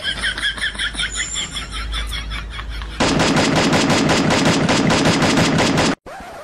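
Gunfire from the video game Free Fire: a rapid, loud automatic burst of evenly spaced shots running for about three seconds, preceded by a busier, lighter rattle of sound and ending in an abrupt cutoff.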